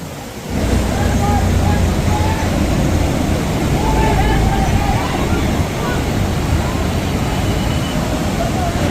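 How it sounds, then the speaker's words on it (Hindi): Fast river water rushes in a broad, continuous roar close by on the Kedarnath trek route, loud and unbroken for the whole stretch, with a few faint voices underneath. "पानी का बहाव"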